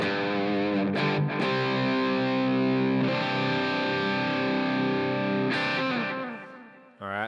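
An electric guitar plays sustained chords through a heavily distorted amplifier with reverb and delay placed before it, thick buzzing tones with a few sharp strums, ringing on and then fading out near the end.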